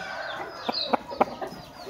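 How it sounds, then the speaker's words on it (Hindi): An Aseel rooster at a Multan poultry market gives a few short, soft clucks in quick succession, faint against a low background murmur. "अब मैं दिखाता हूँ आपको दूसरा मुर्गा जी"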